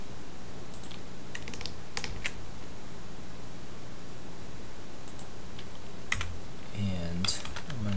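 Keystrokes patter on a computer keyboard in short irregular bursts of clicks, fairly close over a steady background hiss, with a voice briefly audible near the end.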